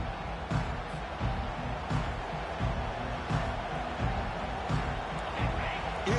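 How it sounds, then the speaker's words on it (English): Dense, steady roar of a fired-up crowd at a college football playoff game, a broad wash of cheering with rhythmic swells and stomping pulses throughout, distant and continuous. "It's early, but this crowd is fired up. Listen to this noise here."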